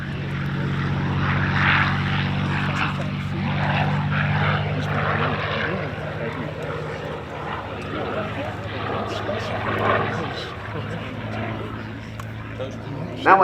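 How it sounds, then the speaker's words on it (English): A P-40 Warhawk propeller fighter makes a low aerobatic pass at the Geneseo air show, its engine droning loudly and shifting in pitch as it turns, with an announcer talking over it. "it's a great maneuvering turn to get back over here to show center to showcase the P-40"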